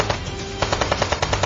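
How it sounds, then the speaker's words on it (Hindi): Rapid bursts of machine-gun fire crackle in quick repeated volleys, loud and close, as a sound effect in a dramatized Mumbai terror attack story, with no voices over it. "अब्दुल ने उन पर फायरिंग शुरू कर दी"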